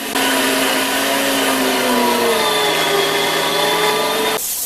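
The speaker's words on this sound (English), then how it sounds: "I'm going to grind them together, and I'm going to grind them twice." Electric meat grinder grinding sausage meat, a loud steady motor whine with shifting pitch as the meat passes through, close and continuous before cutting off at the end.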